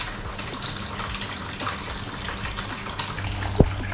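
Water pours steadily into a tank being filled to mix termite insecticide, a continuous gushing rush with a sharp knock near the end.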